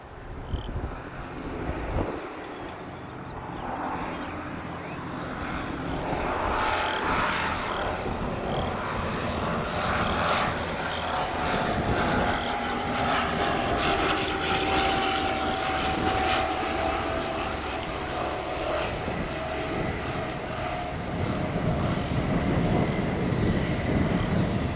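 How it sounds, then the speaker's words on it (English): A Twin Tecnam aircraft does a touch and go on runway 26 left at Spirit of St. Louis Airport, with a broad propeller-engine roar that builds and holds loud under wind buffeting. "Twin Tecnam 90 Tango Alpha, runway 26 left, clear touch and go"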